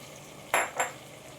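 Green peas drop into a pot of frying mutton with ginger and garlic paste, giving two quick loud bursts of sizzle and scraping in succession over a quiet background hiss.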